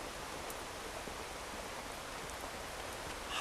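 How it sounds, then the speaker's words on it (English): Steady rain falls outside on a morning, a constant even hiss of drops on surfaces with no pauses, close and moderately loud, heard alone without any voices. "It's raining again."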